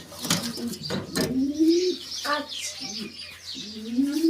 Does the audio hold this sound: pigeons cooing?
yes